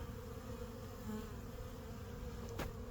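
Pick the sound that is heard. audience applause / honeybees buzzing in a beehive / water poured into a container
honeybees buzzing in a beehive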